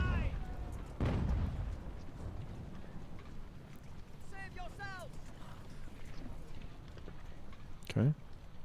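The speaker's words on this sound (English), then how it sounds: "Artillery shifting fire here" Artillery fire in Ultimate General: American Revolution, a deep boom at the start and another near the end over a constant battlefield rumble, with horse whinnies and distant shouts in between.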